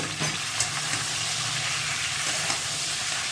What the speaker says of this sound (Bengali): এরপর সমস্ত সবজিগুলো ওই তেলের মধ্যে দিয়ে দেব